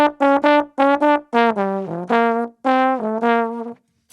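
A lone trombone improvises a swinging, diatonic solo, a run of clear, close, detached notes with short breaths between phrases and a fuller legato passage in the middle, no accompaniment.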